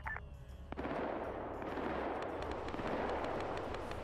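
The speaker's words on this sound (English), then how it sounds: "Gunfire." Dense, continuous video game gunfire and explosive bursts fill the scene, a sustained rattle of automatic shots with heavy booms, loud and close, without talk.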